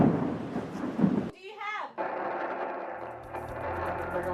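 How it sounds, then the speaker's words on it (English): Thunder from storm cells surrounding the mountains of Lesotho, a deep, heavy rumble that swells and rolls beneath a broad hiss, with a short pause before the low roar resumes. "The storm cells have surrounded Justin in the mountains"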